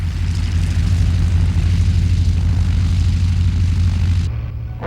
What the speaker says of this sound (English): helped along by 3 Pratt & Whitney Wasp radial engines